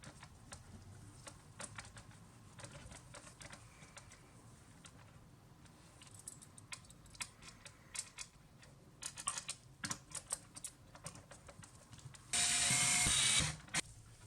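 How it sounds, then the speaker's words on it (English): Quiet, irregular clicks and small metallic ticks of a screwdriver tightening four screws on a PS5 fan cover, ending in a short burst of brighter whirring. "put the fan cover back on, and tighten down the 4 screws"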